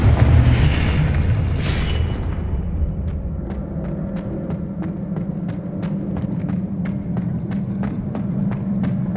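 The Confringo explosive spell goes off in Hogwarts Legacy, a deep booming blast close up that rumbles away, followed by a steady run of light rhythmic footsteps.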